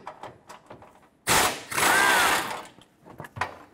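A power tool spins out a 10mm bolt on the frame rail of a 2009-2014 Ford F-150, heard as a close, loud whirring burst of about a second and a half, between light handling clicks and taps.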